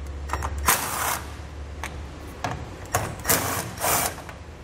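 Bolts on a charcoal canister bracket being loosened with a 10 mm socket on a 2020 Toyota Tundra, giving short bursts of ratcheting and whirring in several separate spells, close and fairly quiet.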